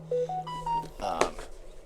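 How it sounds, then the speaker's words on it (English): A phone lets out a short electronic notification, a quick run of rising beeping tones over a low hum, then breaks into a brief burst of busier sound. "My phone sometimes never shuts up."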